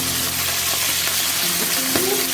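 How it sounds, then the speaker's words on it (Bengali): Pabda fish frying in a pan, a loud, close, steady crackling sizzle with stirring sounds. "মাছগুলো খুব যে কড়া করে ভাজবো তা কিন্তু না"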